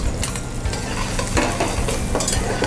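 Onions are tipped into a pot of softening mirepoix vegetables and stirred, giving a steady, close sizzle with scraping and light clinks of a utensil against the pot.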